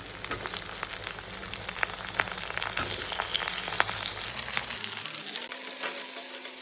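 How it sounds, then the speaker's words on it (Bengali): Ginger-garlic paste and chopped raw tomato frying in a pan while being stirred, a steady close sizzle with scattered metallic scrapes and clinks of the spoon throughout. "আদা রসুন বাটাটা একটু নেড়ে চেড়ে নেবো। আদা রসুন ছেড়ে দেবো টমেটো"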